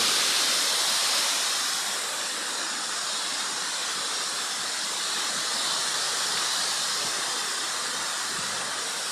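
Floodwater from a swollen river after a typhoon, rushing in a steady, dense roar that stays loud and unbroken throughout, with no voices over it.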